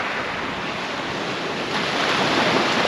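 Choppy sea surf breaking steadily along the Holderness coast at North Hornsea, a continuous broadband wash of waves with some wind noise, swelling slightly louder toward the end, no voices.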